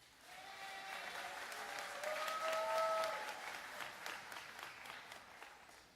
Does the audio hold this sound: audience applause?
yes